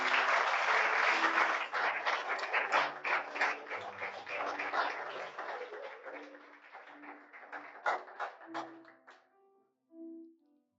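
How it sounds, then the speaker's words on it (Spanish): A church congregation applauds during a Sunday morning service, a full round of clapping that thins into scattered claps and ends with a few isolated tones near the close. "Dale un aplauso al Señor en esta mañana."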